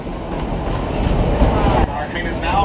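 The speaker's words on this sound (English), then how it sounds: "Our train is now rolling in to our Lebanon Silver Mine station." A Georgetown Loop Railroad train rolls along the tracks as it pulls into the Lebanon Silver Mine station, giving a loud, steady rumble with a constant wheel-and-rail roar throughout.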